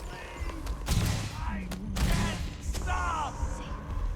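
EM rifle fire in the Starfield video game, bursts of sharp electronic shots in quick succession amid a busy combat mix, with voices calling out over the gunfire.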